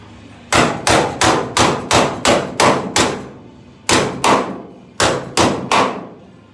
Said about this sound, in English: Might need my bigger hammer.